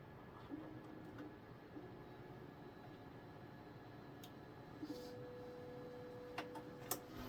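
An Anycubic Kobra S1 3D printer runs steadily at close range, giving a quiet, even mechanical hum with soft motor whine and a few faint ticks and clicks.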